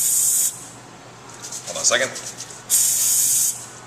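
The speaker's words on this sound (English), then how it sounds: "So use your Spartan cooking spray from D&W." Spartan cooking spray hissing from an aerosol can as a baking pan is greased for baked spaghetti, two loud bursts of spray, one short and one about a second long, with a person speaking briefly between them.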